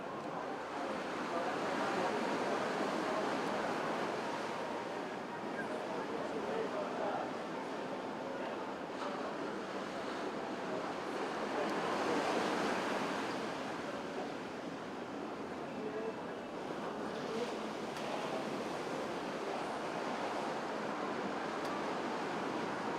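Ocean surf rolls in a constant broadband wash at a surfing contest in Ballito, with swells rising and falling over the steady roar and some wind noise.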